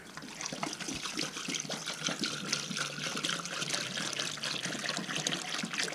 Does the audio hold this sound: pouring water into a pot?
yes